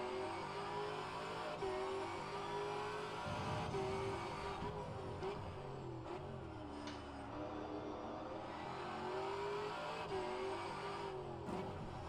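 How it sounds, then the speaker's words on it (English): Race car engine in rFactor2 at a Detroit Grand Prix sim race, a steady high whine that rises and dips through gear shifts, sustained and fairly loud for the whole stretch with no talk. "All right, Eric, faster car approaching."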